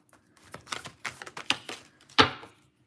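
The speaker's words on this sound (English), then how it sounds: "I'm gonna shuffle out Moonology Oracle card here for pile 3." A series of quick papery riffles and taps, close by, as Moonology oracle cards are shuffled, ending with a sharper slap.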